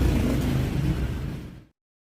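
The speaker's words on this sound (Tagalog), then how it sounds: "Yan na po yung maingay ng makina." A freshly overhauled motorcycle engine runs on a workshop stand, a loud, steady low rumble that slowly fades and cuts off abruptly after under two seconds.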